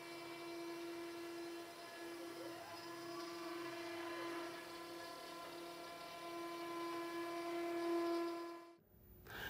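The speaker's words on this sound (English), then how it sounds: "I have a 1/8 inch bit in the machine right now, and it's going to cut some pockets" A CNC machine fitted with a 1/8 inch bit cuts pockets in maple, giving a steady, loud mechanical whine with layered tones and a brief sweeping pitch, then cutting off abruptly near the end.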